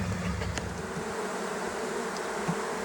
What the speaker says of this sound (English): So I've got to move these bees out of the way